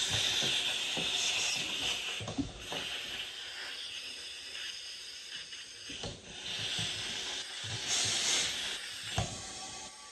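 Compressed air hisses steadily into a resin casting pressure tank being pressurized to 40 PSI, a close, continuous bright hiss that swells and dips slightly, with a few faint knocks along the way.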